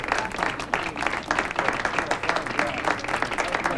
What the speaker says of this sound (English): let's have a big round of applause for Father O'Brien and his most worthy cause.